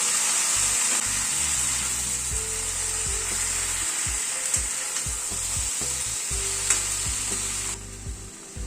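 A coconut, sesame and poppy seed paste frying with pumpkin leaves curry in a pan, a continuous close sizzle with repeated scraping stirs.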